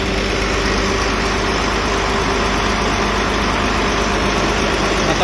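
A Volvo D13 diesel truck engine runs at a steady idle after an injector repair, a loud, continuous low rumble close by with no speech over it.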